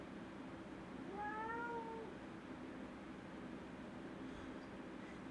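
A house cat gives one short, drawn-out meow that rises and then falls. It is faint and sits over a low steady background hum, with no talking.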